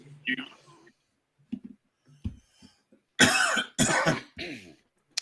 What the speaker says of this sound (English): We got cough today.